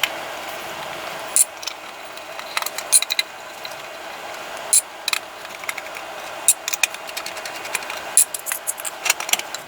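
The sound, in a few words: removing screws from Creality CR10 3D printer underside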